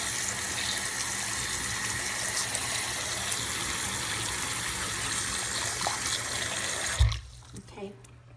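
A bathroom faucet runs steadily as makeup brushes are rinsed under the stream, a continuous close wash of water that cuts off abruptly near the end, leaving a few faint handling sounds.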